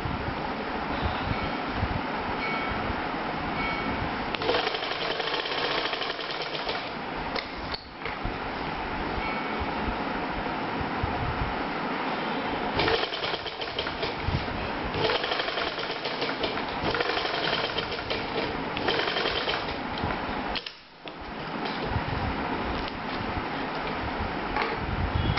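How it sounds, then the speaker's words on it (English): A sewing machine stitches fabric for a neck loop in a long, steady mechanical whir heard up close, with a few brief stops and restarts. "Now stitch on the fabric, sew from here,"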